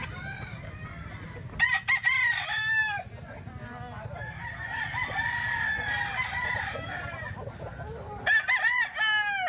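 A young stag rooster crows loudly nearby in several long, wavering calls, with softer clucking and other fowl sounds filling the gaps between them; someone talks briefly in the background.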